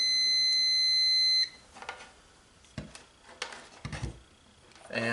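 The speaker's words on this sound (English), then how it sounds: "and put it on continuity where it beeps" A multimeter on continuity mode gives a steady electronic beep for over a second while checking mower wiring, then cuts off, followed by scattered clicks and handling noises.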